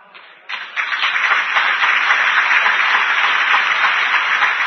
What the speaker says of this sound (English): Y'all stop clapping.